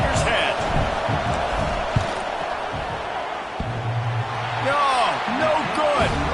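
A stadium crowd roars during a college football field goal attempt between USC and Notre Dame, a steady loud wash of cheering and noise with an announcer talking over it.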